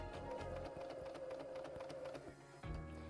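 A sewing machine runs steadily while stitching fabric toward a corner, a continuous close mechanical whir with rhythmic needle ticks that briefly slows and then resumes near the end.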